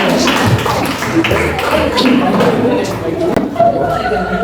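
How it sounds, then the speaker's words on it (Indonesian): A class group claps hands together in a room, uneven scattered clapping mixed with chatter and voices throughout. "tepuk tangannya dulu aja"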